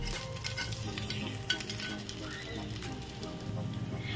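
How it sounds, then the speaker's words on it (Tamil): Paniyaram batter cooks in a paniyaram pan with a soft, steady sizzle and crackle of frying, fairly quiet and close, with occasional light scraping as the pieces are turned. "எல்லா பனியாரத்தையும் திருப்பி போட்டாச்சு. இப்போ ஒரு 2 நிமிஷம் போல வேகட்டும்."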